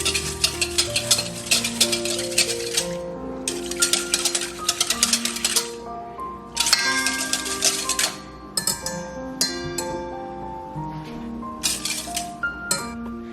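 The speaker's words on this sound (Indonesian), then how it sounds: "Nah kita aduk lagi." A spoon stirs hot gelatin into milk in a glass bowl for rum and raisin ice cream, producing steady, bright clinking and scraping against the glass, close and continuous with short breaks.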